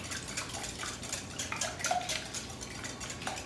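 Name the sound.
whisking popover batter in a bowl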